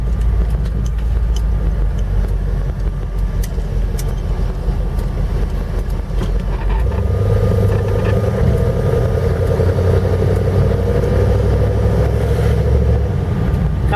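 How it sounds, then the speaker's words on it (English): A 1977 Dodge Ramcharger SE 4WD with a 440 V8 and stock Thermoquad carburetor pulls hard in first gear, its low steady engine drone swelling into a deeper, stronger roar partway through, heard from inside the cab. "Kind of has a little bit more grunt when you're getting out of on it in first gear here."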